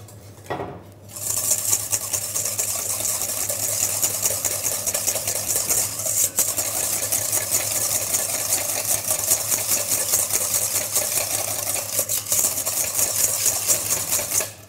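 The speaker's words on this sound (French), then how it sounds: "nous allons verser le sucre sur nos jaunes d'œufs et on va les blanchir" A whisk beats egg yolks with sugar in a bowl for a vanilla custard, a steady, rapid metallic clatter running continuously and close for the whole stretch, with no talking.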